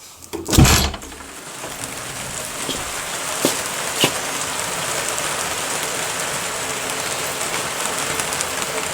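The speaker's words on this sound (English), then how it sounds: "let you listen to the rain" Steady rain falls outside an open back door onto a veranda roof, a continuous close hiss of drops with a few louder splats and a thump of the door at the start.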